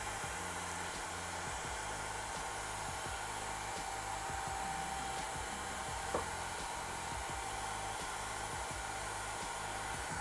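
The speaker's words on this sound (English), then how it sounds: "Hover the tube over the heat gun about 3 to 4 centimeters away from the tip." Heat gun blowing hot air steadily, used for bending PETG or acrylic hardline tubing, a constant close whoosh with no talk.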